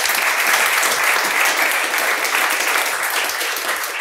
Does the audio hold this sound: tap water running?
no